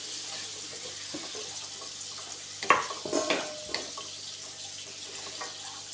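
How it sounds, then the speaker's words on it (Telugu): Chopped tomatoes stirred into a hot pan of sizzling oil while cooking a leafy amaranth dish, with a steady faint hiss and a few soft scraping stirs near the middle. "టమాటా వేసుకొని కలుపుకుందాము."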